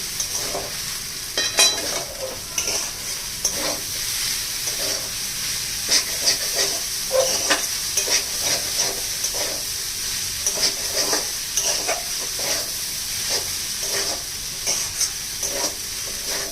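Chow mein frying in a pan with Maggi masala, stirred with repeated scraping strokes over a constant sizzling hiss, the clatters coming irregularly every second or so.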